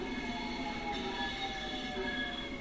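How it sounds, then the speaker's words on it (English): A Class 465 electric train passing in the Train Sim World 3 game on Southeastern high speed lines, a rolling rail rumble with high, sustained wheel squeal and whining tones, fairly faint and steady with no talk. "I love the sound of the 465."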